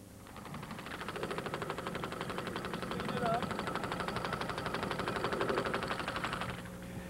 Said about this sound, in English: That's a 4-cylinder engine right there